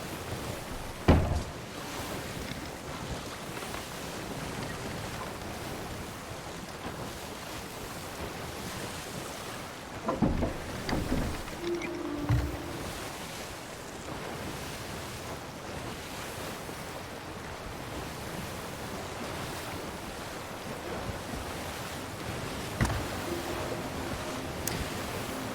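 A sailing ship in the pirate game Sea of Thieves pushes through ocean waves, with a steady wash of surf and wind and a few louder splashes and creaks rising from the continuous roar.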